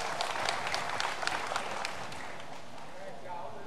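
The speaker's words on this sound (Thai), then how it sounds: "ขอเสียงปรบมือเป็นเกียรติดังๆอีกสักครั้งนะครับ" A crowd claps in a steady patter of scattered hand claps at a Muay Thai boxing event, fading slightly toward the end, heard at a distance under a noisy background.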